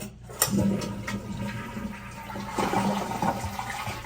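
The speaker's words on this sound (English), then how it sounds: "Okay, it flushed." A household toilet flushes right after its rubber valve seal has been repaired, with a loud rushing, gurgling surge of water that stays steady and close for several seconds, with no talking.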